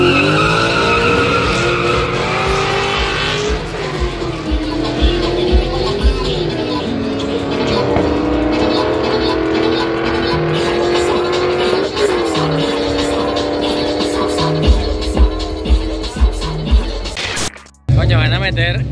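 Drag racing cars at Turagua on a Mustang day launch down the strip: loud engines rev and climb in pitch, tires squeal, and a sharp cutoff comes near the end. People talk in the background.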